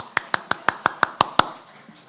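A single person claps eight times in a steady, quick rhythm, crisp and close in a church service setting, the claps ending and leaving a quiet room.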